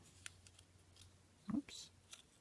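Scissors trim the restringing cord of a vintage celluloid doll, giving a couple of faint, close snips and a brief louder cut midway, with soft handling noise around them.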